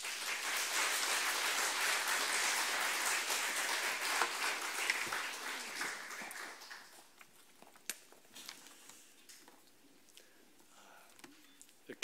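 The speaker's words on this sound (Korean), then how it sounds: "박수하겠습니다." A church congregation applauds to welcome a visiting professor and associate pastor, loud continuous clapping for about six seconds that fades away, leaving a quiet room with scattered light clicks and rustles.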